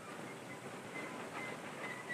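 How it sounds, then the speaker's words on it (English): The Ohrid Express steam train, a mountain line hauling heavy wood loads toward a mine, runs on rails as a faint, steady rumble and rush in the distance, with no voices. "The afternoon train carries wood from the mountains to the mine."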